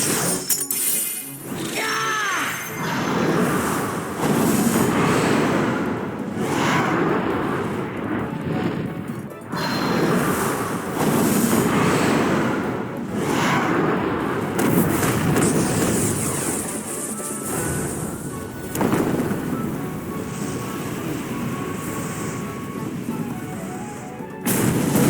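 A spinning disc creates a vortex and explosion in the Monster Hunter Stories 2 video game, heard as dense, booming crashes and rumbling blasts in repeated waves over about 25 seconds, with no one talking.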